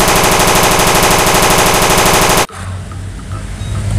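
A toy M60 machine gun fires a loud, rapid, rattling electronic burst for about two and a half seconds, then cuts off abruptly into quiet room noise.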